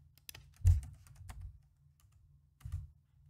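Keys tapped on a computer keyboard, a few quiet, separate clicks and a short burst of strokes near the start, then a pause and one more cluster of taps, close and alone.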